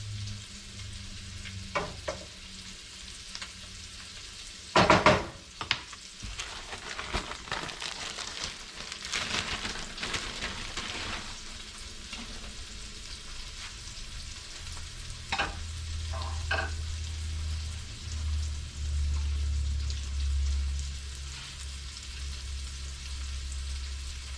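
Blackened speckled trout fries in a pan with a low, continuous sizzle and crackle, punctuated by louder scraping and clattering as it is turned, with a deeper rumble toward the end.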